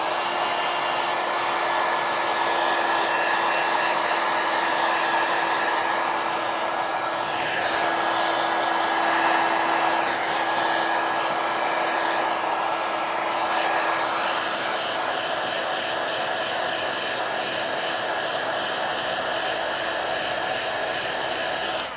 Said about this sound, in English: You hit it with a heat gun.